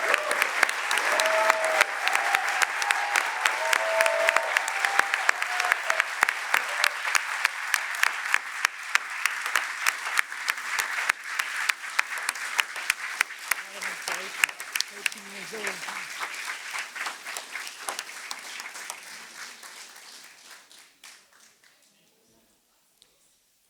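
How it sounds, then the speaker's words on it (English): Sustained applause from a summit audience, a dense steady clatter of many hands clapping that carries on for about twenty seconds before tapering off into quiet. "Please join me in giving all of our uniters a huge round of applause for their work"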